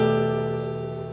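One strummed acoustic guitar chord from a song lesson, its notes held steady and ringing close and alone, fading only slightly across the moment.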